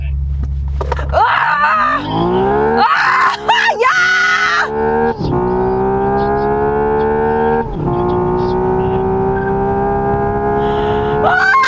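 A Hyundai Ioniq 6 N electric car makes a launch-control start, its motor whine climbing steadily in pitch and holding loud under excited shouting and exclamations from the occupants.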